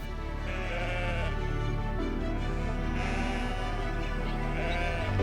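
Sheep grazing beside the Kelbra reservoir bleat several times in clear, drawn-out calls over a steady outdoor background.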